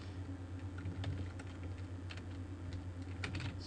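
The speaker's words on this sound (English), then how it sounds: "This is getting annoying having to type objc every time." Someone types steadily on a computer keyboard during iOS audio programming, with soft irregular key clicks in quick bursts over a low steady hum.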